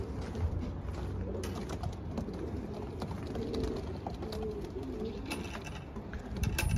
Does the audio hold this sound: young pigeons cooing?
yes